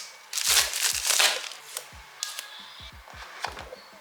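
Packaging of a new Apple iPhone being opened up close, with rustling crinkles and plastic tearing, then a run of small separate taps and knocks as the parts inside are lifted out and set down.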